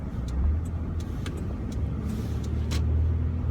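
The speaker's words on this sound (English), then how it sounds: "jiggle it until I can start the dang car." A car idling steadily nearby, a low continuous engine rumble with a few light clicks and knocks over it, heard alone without speech after a sticky key is worked in the ignition.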